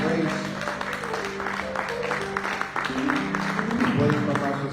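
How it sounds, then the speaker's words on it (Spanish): A church congregation applauds in praise to the Lord during a sermon, moderate clapping running throughout with music or voices underneath. "Den un aplauso al Señor."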